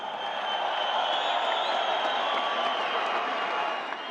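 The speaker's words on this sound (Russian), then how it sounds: "аплодисменты обоим бойцам!" An arena crowd at a Kazakh NAIZA title fight between Bagdat Zhubanysh and Kazbek Sagyn applauds both fighters with a sustained, even wash of clapping and cheering that sounds moderately distant.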